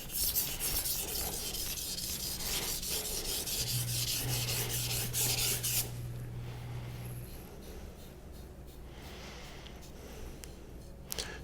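A knife blade rasps steadily over a Shapton Kuromaku 1000-grit whetstone in quick, rhythmic strokes, a close, even scratching hiss that becomes quieter and softer partway through.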